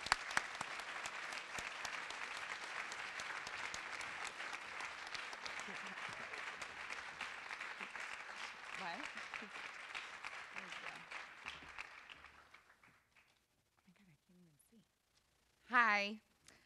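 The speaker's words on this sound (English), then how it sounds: "Let's give her a round of applause." An audience at a PTA Founder's Day award ceremony gives a sustained round of applause that fades out over about twelve seconds. A brief voice follows in the quiet afterward.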